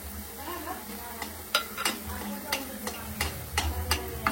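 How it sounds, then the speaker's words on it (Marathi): Masala paste for prawn curry fries in a pan with a close sizzle, punctuated by repeated clicks and scrapes of a spoon stirring it, steady throughout. "आता हे वाटण आपलं चांगलं परततंय"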